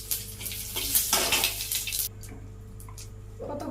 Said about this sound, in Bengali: তেজপাতা দিয়ে দিলাম পুরোই, জিরে আর এই শুকনো লঙ্কা